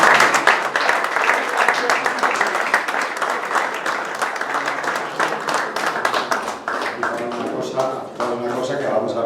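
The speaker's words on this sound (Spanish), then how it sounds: "Gracias por la parte que me toca, por su aplauso y atención." Audience at a poetry reading event applauds warmly, dense sustained clapping from many hands that continues steadily throughout with a voice briefly heard near the end.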